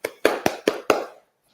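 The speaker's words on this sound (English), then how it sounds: "Let's give them a big round of virtual applause." Five distinct hand claps in quick succession, close and crisp, each a sharp isolated slap with brief decay, followed by near silence; a single person's clapping rather than a crowd.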